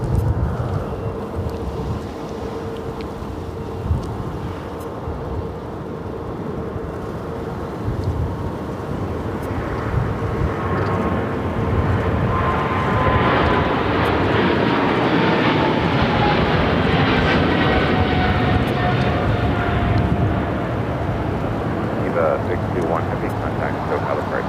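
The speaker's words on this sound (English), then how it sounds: "That is EVA 621 taking off to Taipei on the 777 freighter" An EVA Air Boeing 777 freighter takes off from runway 25 left at LAX, a broad sustained jet roar with a rising whine building over the final half, heard at a distance with wind noise.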